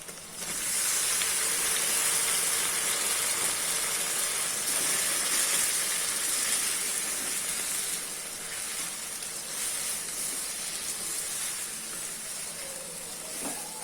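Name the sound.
tomatoes sautéing in pan with onion and garlic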